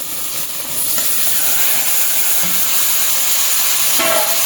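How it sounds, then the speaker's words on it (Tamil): Tomatoes hit hot biryani masala with chili powder in a pan, a loud sustained hissing sizzle close up, steady throughout with no talking. "இதுலேயே தக்காளி போட்டுக்கலாம்."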